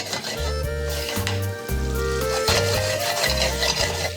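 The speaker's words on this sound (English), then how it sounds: "as my garlic sautés in oil into a wonderful, luscious paste" Garlic sautéing in oil in a pan for Campania-style spaghetti puttanesca, with capers, giving a steady close sizzle with occasional stirring under prominent, rhythmic tonal music.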